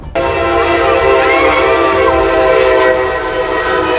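A train crashes into a tractor trailer hauling military equipment; a loud, sustained train horn blares close by from the start and holds steadily to the end, with rumbling rail noise underneath.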